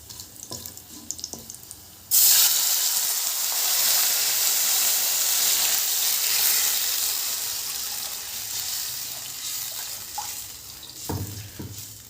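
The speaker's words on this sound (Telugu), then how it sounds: "ఇప్పుడు గరం వాటర్ పోస్తున్నానండి" Hot water poured into a pan of fried tempering spices for pesarattu upma sets off a sudden, loud, steady hissing sizzle that fades slowly over several seconds, with a few quiet kitchen clinks before and after.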